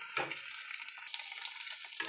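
Two eggs frying in a pan for an egg paratha, a steady close sizzle with light stirring and scraping of the utensil throughout, with no talk.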